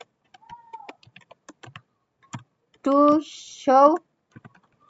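Rapid keystrokes on a computer keyboard while entering Cisco access-list commands, a string of light, close clicks in short bursts between spoken words and continuing under the talk.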